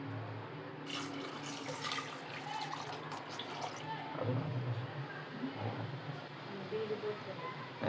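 A glass of water is poured into a pot of rice, producing a faint, soft splashing trickle at low volume with some quiet talk nearby.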